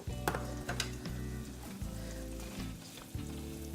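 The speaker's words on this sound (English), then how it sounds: "We're gonna let these cook over this medium-low heat." Crawfish stuffing ingredients frying in a pan over medium-low heat, a soft, steady sizzle with occasional faint clinks of stirring, heard close and quiet.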